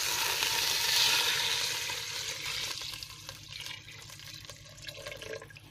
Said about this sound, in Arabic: هننزل بالميه بتاعتنا